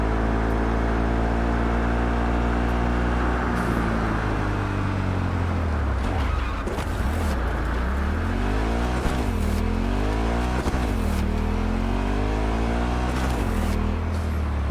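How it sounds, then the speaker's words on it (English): Motorbike engine droning steadily while riding in Cyberpunk 2077, with loud continuous low rumble and rising and falling pitch sweeps as the bike accelerates and shifts, no talking. "I like driving the bike"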